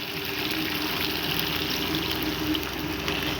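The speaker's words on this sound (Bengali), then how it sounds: "দিয়ে দিচ্ছি আমরা অল্প পরিমাণের জল" Water poured into a pan of curry, a continuous close gushing and splashing pour that stays steady and fairly loud throughout.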